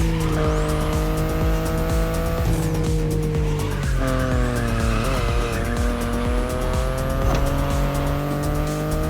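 A BMW i8 in the racing game The Crew Motorfest, its electric-hybrid engine whining loudly as it shifts up and down through gears, with tires squealing and skidding through corners, continuous and close throughout.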